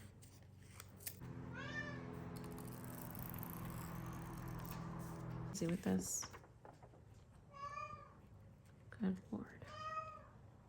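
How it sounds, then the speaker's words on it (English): A cat meows repeatedly nearby, a few drawn-out cries rising and falling between quiet gaps, while a person talks at the same time and paper or craft items rustle. "This cat is so dramatic."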